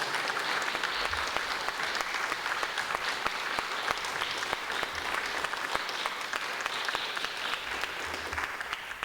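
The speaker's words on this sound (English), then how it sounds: "please give him a wonderful round of applause" Steady audience applause at an Indian classical music and dance festival welcomes an instrumentalist to the stage, dense clapping sustained evenly throughout at a moderate distance.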